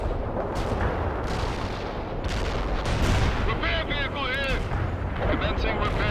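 Battle in the strategy game World in Conflict: Soviet Assault, with dense, continuous rumbling artillery and gunfire booms layered into a loud, steady roar of combat throughout.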